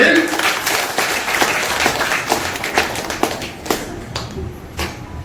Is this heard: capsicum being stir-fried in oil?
no